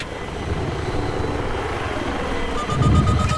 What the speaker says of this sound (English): Chopper's up behind us.